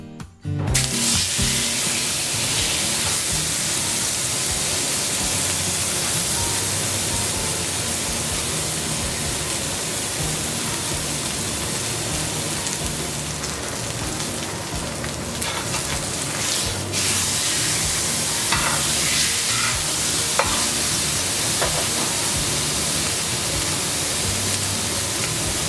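Steak searing in canola oil in a smoking-hot cast iron skillet, giving a steady, loud, continuous broadband sizzle with crackling spits throughout, no talking.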